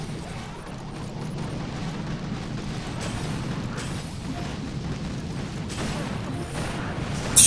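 Boom cannon fire during a Mega Crab battle in Boom Beach, heard as a dense, rumbling wash of game explosions and gunfire that stays steady and loud throughout.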